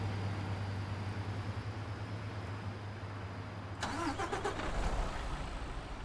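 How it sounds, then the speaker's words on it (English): Mercedes truck engine in Euro Truck Simulator 2, a steady low engine hum that shifts midway with a burst of starter noise and rising rumble, heard alone at moderate level. "Let's start the engine of this beautiful Mercedes truck."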